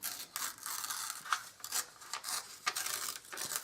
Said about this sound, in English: Let me go ahead and tear off all the little references on the side